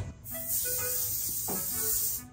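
An aerosol hair spray can sprays a steady hiss for about two seconds, close and fairly loud, used while styling hair before a Swarovski event; faint music plays underneath.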